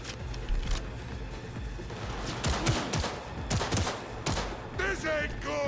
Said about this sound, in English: The most silent gun in all Night City.